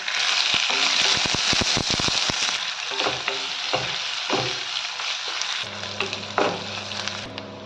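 Onion slices fry in hot tempering oil with cumin, mustard seeds, lentils, garlic, curry leaves and chilies. A loud, dense sizzle carries a burst of crackles and pops early on, then settles into a steadier frying hiss with occasional stirring clinks.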